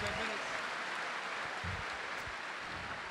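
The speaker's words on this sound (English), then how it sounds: "Round of applause for Jerry Pritchett" Crowd at a strongman event applauds for Jerry Pritchett, a steady wash of clapping heard at a distance, fairly faint under arena ambience with some low thumps.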